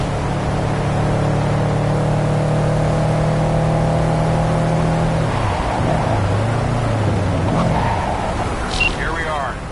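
Car engine idling in the video game Cyberpunk, a steady low hum that drops in pitch and fades as it shuts off partway through, followed by a rustling ambience. Voices talk over it.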